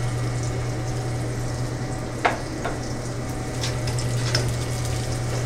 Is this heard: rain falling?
no